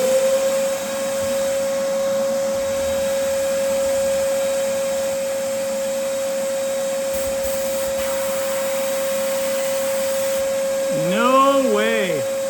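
A steady, loud mechanical hiss and whine of sandblasting equipment runs continuously, with a high tonal hum and a brief squeal near the end.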